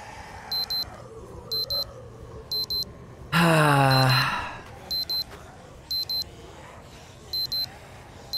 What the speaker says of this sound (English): Oh, it's an alarm. It's a watch I picked up.